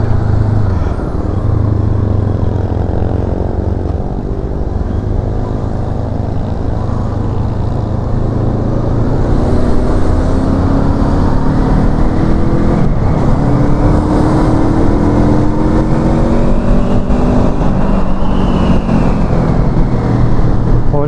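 A 2023 Honda CL500 Euro5 motorcycle accelerates on a test ride, its engine note climbing repeatedly through the gears, loud and close, with wind noise and rising pitch sweeps.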